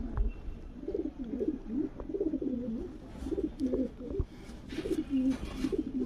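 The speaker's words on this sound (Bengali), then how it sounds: "দেখুন পুরো বন্ধ লেজের পায়রা" Closed-tail pigeons coo in a steady repeating series of soft, throaty calls, close by and clear, with no talking.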